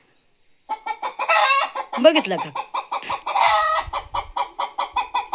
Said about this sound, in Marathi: बघा खाली कोंबडी बसली वर कोंबडा बसला.